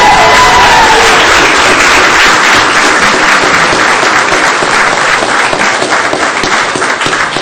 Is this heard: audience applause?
yes